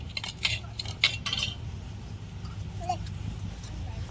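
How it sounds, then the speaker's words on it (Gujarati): Metal temple utensils clinking and clattering as they are handled, a few bright knocks early on and then quieter, with someone speaking Gujarati nearby. "જો આ બધા મંદિરના વાસણી"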